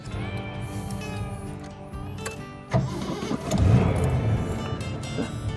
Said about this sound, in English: Love how this thing just starts right up every single time.